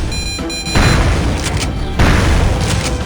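Shotgun blasts in a remastered first-person shooter game running in 4K at 60 fps: two heavy, booming shots about a second apart, each with a rumbling tail, over a steady backdrop of game music.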